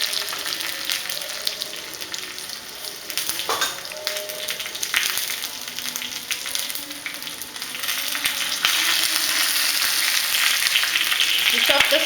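Cumin seeds sizzle in hot oil as a tempering for a tricolor dhokla, a steady close hiss that rises louder toward the end, with faint stirring and no talk.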